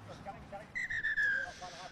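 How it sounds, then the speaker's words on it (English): A referee blows a single long, steady blast for half-time at an Africa Men's rugby sevens match involving Morocco. The whistle sounds over a murmuring crowd and background noise. "that's the half-time whistle"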